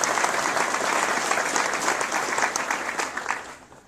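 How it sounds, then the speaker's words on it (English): Audience applause at a NASA agency awards ceremony, a steady dense wash of clapping from a large crowd that holds for several seconds and then tapers off at the end. "please join me in applauding their efforts"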